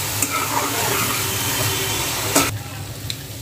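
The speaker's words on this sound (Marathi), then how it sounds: "याला सगळं आपण मिक्स करून घेऊया." Capsicum and onion tossed and stirred in a hot pan while cooking paneer frankie filling, giving a steady close sizzle with scraping stir strokes, ending in a brief louder scrape before the frying noise drops.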